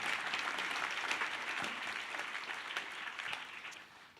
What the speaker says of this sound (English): Round of applause, please, everybody.